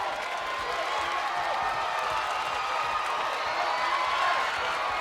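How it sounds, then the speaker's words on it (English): An arena crowd at a televised gladiator-style competition cheers on a female contender working a hand bike, producing a dense, continuous roar of voices and clapping that holds a steady level from a distance. "The crowd urging Kim to finish up on that hand bike"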